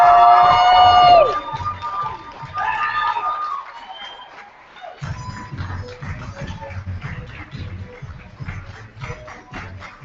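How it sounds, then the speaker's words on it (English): Audience at a Louder than a Bomb youth poetry slam semifinal cheering and shouting loudly at first, then settling into a lively crowd murmur with scattered calls. "let us keep that applause going as we welcome to the stage our next leader"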